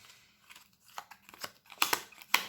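Playing cards are shuffled close up with quick, crisp riffles and taps, building to a few louder snaps near the end, alone and fairly quiet.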